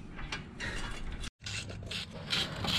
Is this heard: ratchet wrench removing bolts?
yes